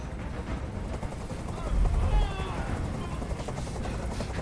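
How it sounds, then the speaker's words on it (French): Helicopter hovering overhead in the video game Detroit: Become Human, a steady rotor drone with a brief louder swell, mixed with other game sounds and a voice talking over it. "Fais dégager cet hélicoptère, maintenant."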